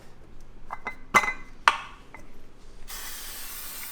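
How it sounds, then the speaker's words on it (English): Olive oil spray hisses into a pan in one steady burst after a few clinks and clicks of handling the can, close and fairly quiet. "You put some olive oil spray in the pan"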